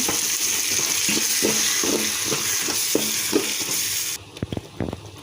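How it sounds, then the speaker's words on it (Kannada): Spice powder stirred into a tomato bath mixture in a pan, a steady sizzle under a repeated scraping rhythm of the spoon, ending with a few softer clinks and taps. "ಅದನ್ನು ಹಾಕ್ತಾಯಿದ್ದೀನಿ ಚೆನ್ನಾಗಿ ಮಿಕ್ಸ್ ಮಾಡೋಣ"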